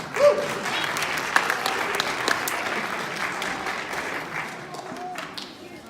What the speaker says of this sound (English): Everybody give them a round of applause for making noise like that.